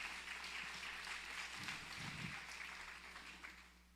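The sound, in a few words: applause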